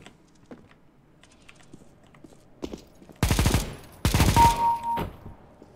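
An M249 light machine gun in a video game rips off two loud, rapid bursts of about a second each, preceded by quiet clicks and steps, with a faint tone after.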